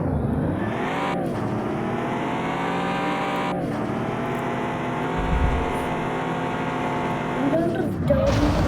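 Bugatti Chiron in a European car driving simulator game: a steady, loud engine drone with gear shifts and rising revs, sounding close and continuous, with a voice talking over it.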